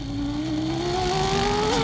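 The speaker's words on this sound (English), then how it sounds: "Listen to the engine note, and you can tell why the drivers call this a point and squirt circuit." A 1994 Formula One race car engine at the Australian Grand Prix, a loud high-pitched wail rising steadily in pitch as it accelerates, sustained and fairly close.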